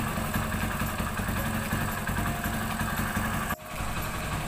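A Hero Splendor Plus motorcycle engine idles nearby after an engine flush and a fill of Motul 20W-40 oil, a steady even putter that dips briefly once, with no talking.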